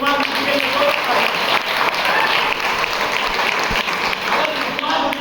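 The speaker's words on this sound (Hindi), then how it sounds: "जबरदस्त तालियां सर के लिए" Sustained audience applause at an Ayurveda seminar in Bijnor, a broad continuous clatter of hands with speech running over it.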